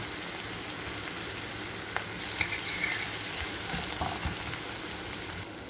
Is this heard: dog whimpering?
no